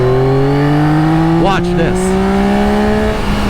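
A 2024 Yamaha XSR900 motorcycle engine drones steadily and loud up close, with rising pitch sweeps as it accelerates through traffic, and someone talks briefly over it.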